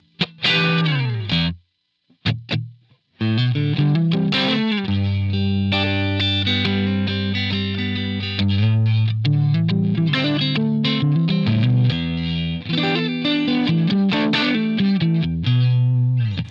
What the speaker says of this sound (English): this is what it sounds like with that compressor now